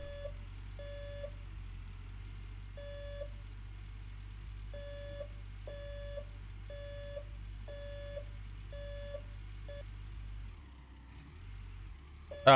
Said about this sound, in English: Oh, we're driving in reverse. That's what that beeping sound is.